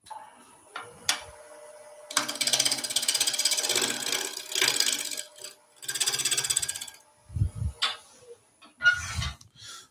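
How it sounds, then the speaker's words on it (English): A wooden garden tool handle is sanded in bursts of abrasive rasping strokes, separated by quieter pauses with a few low knocks and handling noises. "Okay, sanding time."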